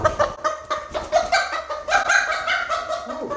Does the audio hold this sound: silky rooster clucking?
yes